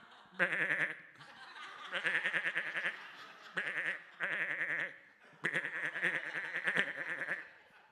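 Sheep bleat in several loud, close bursts of rapid, stuttering bleats, with short pauses between them that give a chattering, rattling rhythm.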